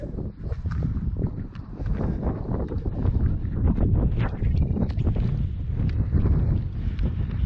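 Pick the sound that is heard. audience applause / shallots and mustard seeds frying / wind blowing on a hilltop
wind blowing on a hilltop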